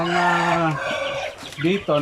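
Hens of the RTL Basilan chicken breed cluck near a nest of eggs, several harmonic, drawn-out calls in close succession, fairly loud and close, with no voices.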